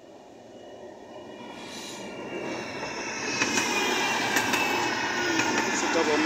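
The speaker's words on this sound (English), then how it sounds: "It's a double Metrolink heading through Piccadilly." Two Metrolink trams pass through Piccadilly at night, a steady rumbling roll that builds gradually, with faint rail squeals and clicks rising toward the end, heard from nearby in an open street.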